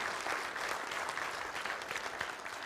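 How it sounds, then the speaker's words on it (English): Audience applause after a conference talk, a steady patter of many hands clapping throughout, fairly quiet and even. "So big round of applause"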